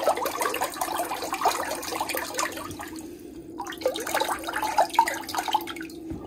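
A Jebao SCP-180 sine cross-flow pump runs at maximum a few inches underwater, producing a steady, close rushing and churning of water with small splashes and drips throughout.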